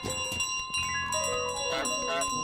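Bell ringing in Untitled Goose Game, a bright clear tone with several ringing strikes layered over game music, moderately loud throughout.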